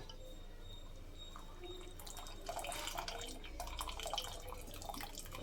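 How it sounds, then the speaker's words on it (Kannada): Water drains from boiled spinach tipped into a colander in a home kitchen. It comes as a quiet trickle and patter of drips that swells after a couple of seconds and then continues gently. "ನೀರು ಸೋಸ್ಕೊಳ್ಳೋದಕ್ಕೆ ಜಾರಿಗೆ ಹಾಕ್ಕೊಳ್ಳೋಣ"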